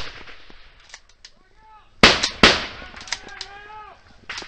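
Weapon fire during a Taliban ambush in Afghanistan, with traversing fire directed along a tree line: two sharp, loud bangs close together with echoing decay, while faint voices and other noise sit underneath.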